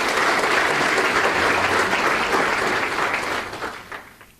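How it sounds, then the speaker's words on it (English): Loud, dense applause from an audience at a 40th birthday celebration, a full sustained roar of clapping that holds steady, then thins and tapers off over the final second. "Please give him a big round of applause."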